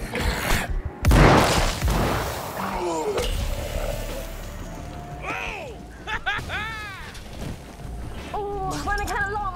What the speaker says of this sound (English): East Side for the next explosion!